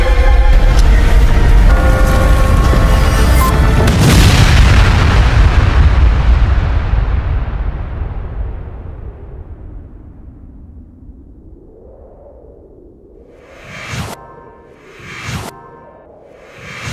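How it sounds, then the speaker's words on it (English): A heavy explosion booms and rumbles, its roar slowly fading into a long low tail, followed by a few sharp whooshing bursts near the end. "that explosion was intense"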